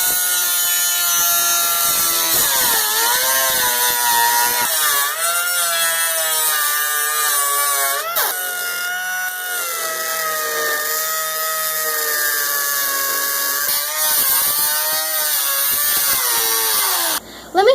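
A power tool cuts off a rusted, sandblasted car door hinge during door patch panel repair, giving a loud, continuous high-pitched whine that wavers in pitch as the cut progresses before stopping abruptly.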